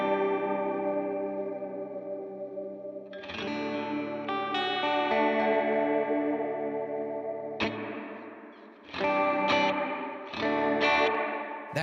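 An electric guitar runs through an effects pedal on its ghost reverb setting: sustained chords swell into shimmering, chorus-like washes, then sharp strummed hits ring out with long echoing tails.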